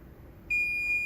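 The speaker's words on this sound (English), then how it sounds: "There we have a beep." A sudden high-pitched electronic beep from a continuity tester on an Amstrad CPC 664 keyboard membrane starts partway through and holds steady, a clean continuous tone over a quiet background.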